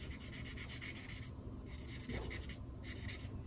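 A brush tip whisks ink across a paper card in short repeated rubbing strokes, soft and close, in quick rhythmic bursts with brief pauses between them.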